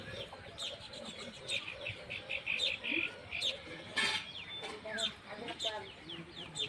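Baya weaver birds at their many hanging nests among coconut palm fronds, a busy mix of high chirps and chattering calls at moderate distance, with a voice talking faintly in the background.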